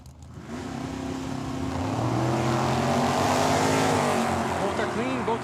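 A Nova and a 1969 Ford Mustang launch side by side at a drag strip, engines roaring and rising in pitch as they pull away, loud and sustained.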